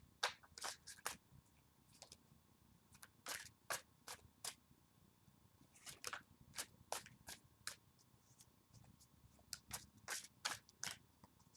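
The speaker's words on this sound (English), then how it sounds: "go ahead and give these a good shuffle." Tarot cards being shuffled in quick bursts of crisp riffling and slapping, with short pauses between, close up and moderately loud.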